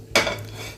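Heavy kadhai set down on a gas stove, a single short metallic clank close by followed by a brief ringing decay.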